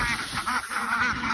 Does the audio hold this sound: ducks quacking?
yes